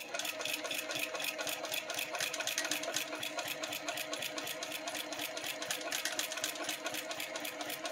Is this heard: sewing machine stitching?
yes